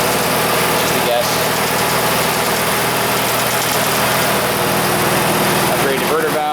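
An Audi B5 S4 with an early WDR Y-pipe, upgraded diverter valves and a 034 intake runs on an AWD chassis dyno, giving a loud, steady engine drone with rich harmonics throughout, and voices talk over it.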